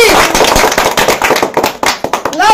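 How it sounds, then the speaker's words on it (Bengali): An audience at a blow-the-ball-off-a-bottle challenge bursts into loud, dense clapping, a close and rapid patter of handclaps that ebbs slightly toward the end. "সবাই একটা জোরে হাততালি"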